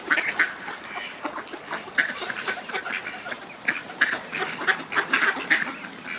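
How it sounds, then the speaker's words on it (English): Ducks beside icy water quack repeatedly while being fed, a busy flock of overlapping calls at moderate distance with no talk. "Today, we are observing the behavior of birds in their natural environment."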